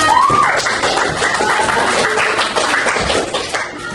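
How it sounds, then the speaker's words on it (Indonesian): Schoolchildren in a classroom applauding together, a dense, loud burst of clapping that carries on for several seconds with children's voices mixed in and a brief high whistle-like tone at the start. "Oke, minta tepuk tangan."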